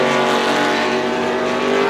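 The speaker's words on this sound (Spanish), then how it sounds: "ahí acaban de pasar autos de GT300, la categoría menor del Super GT" GT300-class Super GT race cars at the Autopolis circuit roar past in a loud, continuous pack, their engines droning with a steady harmonic whine and no voices over them.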